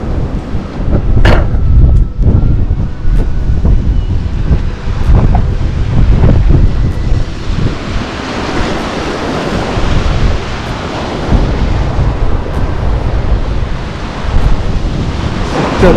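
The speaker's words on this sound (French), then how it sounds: "Attention au vent." Strong wind buffets the microphone in loud, roaring gusts, mixed with crashing surf and occasional sharp knocks.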